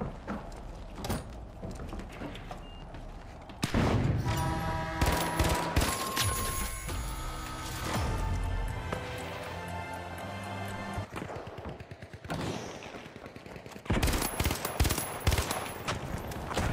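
Automatic FAMAS assault rifle fire in the shooter game The Finals, loud rapid bursts and sustained fusillades starting a few seconds in, broken by a brief lull and then another burst near the end, layered over game music and effects.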